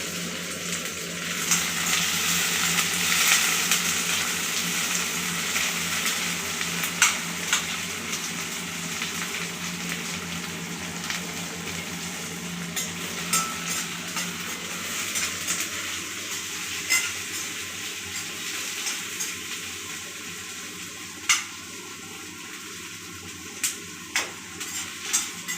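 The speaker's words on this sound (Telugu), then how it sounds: "ఇప్పుడు ఆయిల్ వేసుకున్నాం కదా, దొండకాయలు వేసుకుంటున్నాను." Ivy gourds (tindora) fry in oil in a pan with a steady close sizzle, punctuated by scraping stirs and occasional utensil clinks against the pan, no speech.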